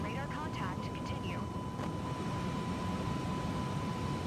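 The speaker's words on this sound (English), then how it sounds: "So that beeping you're hearing is the plane overspeeding." An aircraft overspeed warning sounds in a flight simulator video game, a steady electronic tone held over a constant roar of engine and wind noise.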